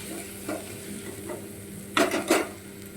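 Garlic dropped into hot oil in a pan for a Bengali rui fish curry, giving a steady background sizzle with a couple of louder bursts of frying and stirring near the end.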